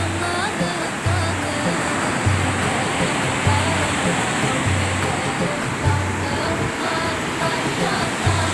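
Sea waves washing over the rocks of a beach at high tide, a constant loud roar of surf with recurring low surges roughly every second, close by, with no voices.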